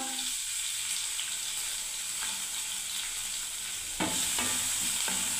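Chopped onion and green chillies sizzle and crackle steadily in a hot pan, a close, continuous frying hiss with a brief stir near the end.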